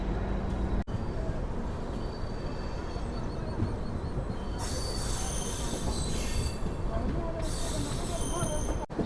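A Garib Rath SF Express rolls along the rails after leaving Yesvantpur, its wheels grinding in a constant rumble while high metallic squeals rise and fade twice, heard from inside the train.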